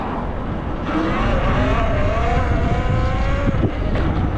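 A stock Talaria Sting R electric dirt bike pulls a wheelie, its motor letting out a loud, close whine that climbs and wavers in pitch as the throttle opens, over steady rushing noise.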